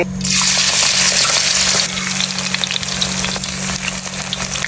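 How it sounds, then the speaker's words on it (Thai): Batter-coated morning glory dropped into hot oil, an immediate loud, bright sizzle that bursts up at first and then settles into a steadier crackling fry, over a low steady hum. "น้ำมันร้อนใส่ผักบุ้งเลย"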